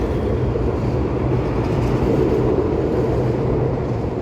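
A train rolling past nearby, a continuous loud low rumble and roar that holds steady throughout with no talking.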